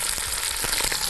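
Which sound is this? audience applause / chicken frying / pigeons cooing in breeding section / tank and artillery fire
chicken frying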